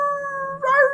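A dog inside an RV howls loudly as people walk past, one sustained close howl that rises in pitch and wavers near the end.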